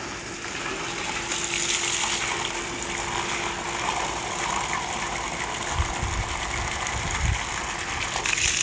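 Water gushes steadily into a bucket, a continuous rushing hiss with a low hum underneath and occasional splashing thumps.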